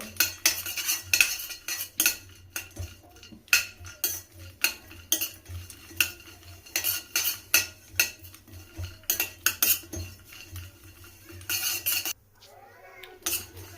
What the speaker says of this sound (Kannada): ಡ್ರೈ ಕೊಕೊನಟ್ ಅಂದರೆ ಒಣ ಕೊಬ್ಬರಿನ ಹಾಕಿ ಸ್ವಲ್ಪ ಹುರ್ಕೊಳ್ತೀನಿ ಚೆನ್ನಾಗಿ ಇದನ್ನು ಫ್ರೈ ಮಾಡ್ಕೊಳ್ತೀನಿ